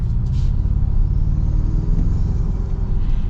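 Engine of a 2025 Toyota Tacoma Trailhunter with a raised air intake, a steady, loud low rumble heard from inside the truck while driving, continuous with no talking.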